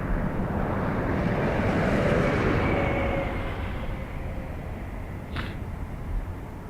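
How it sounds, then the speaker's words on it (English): Ryanair Boeing 737 MAX taxiing at Dublin Airport, a steady low engine rumble and whine heard from a distance that slowly fades, with wind buffeting the microphone. "The new Ryanair Max is taxiing to the hangars."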